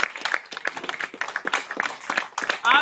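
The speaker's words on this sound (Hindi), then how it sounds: "शानदार तालियों के बीच में" Audience at a community meeting in Ghazipur applauds a former village head as he comes onto the stage, a brisk scattered clapping of a modest crowd that swells slightly at the end.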